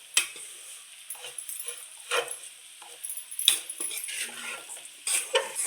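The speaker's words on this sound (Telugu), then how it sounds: "ఇప్పుడు మనం వేసిన ఓట్స్ని కూడా కొంచెం ఫ్రై చేసుకున్నాము." Oats frying in a pan for oats khichdi, with soft sizzling and intermittent scraping clinks of a spoon stirring against the pan, close and moderately quiet.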